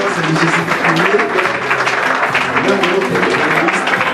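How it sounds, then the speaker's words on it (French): Audience applause at a luncheon debate in Abidjan, broad steady clapping filling the room at close range, with voices and harmonic tones faintly carrying through underneath. "Je vous prie de bien vouloir les accueillir avec des ovations, des applaudissements."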